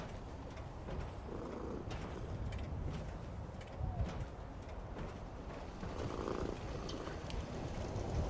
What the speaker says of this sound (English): Alright, kitty, I hear ya.